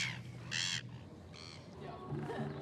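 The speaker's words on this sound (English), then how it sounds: "And now we have a symphony of seagulls." Gulls call in a few harsh, squawking bursts near Queenstown, New Zealand, loud and fairly close against steady outdoor background noise.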